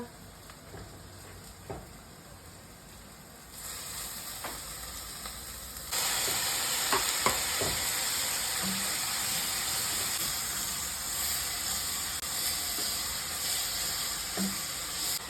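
Chicken frying in a pan with fennel seeds and fenugreek, a steady hiss that grows louder as the chicken goes in, with a few stirring clicks and scrapes.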